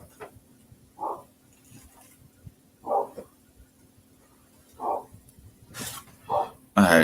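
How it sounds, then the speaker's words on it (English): A dog barks outdoors in a handful of short, separate bursts spread a second or two apart, moderately distant against a quiet background, before a sudden loud burst of noise at the very end. "Let me see what my dog's out here barking at."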